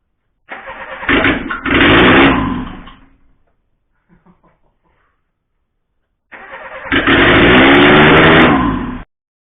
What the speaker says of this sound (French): le moteur il redémarre